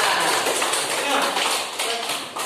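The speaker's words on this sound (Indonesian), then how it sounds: "Beri tepuk tangan dulu untuk kelompok pertama." A classroom group claps briskly and steadily for the first group of students, loud and close throughout, with voices mixed in.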